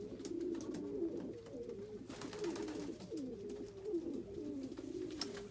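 Young pigeons in a loft coo continuously in overlapping low burbling calls, with faint wing flutters and shuffling, steady and close throughout.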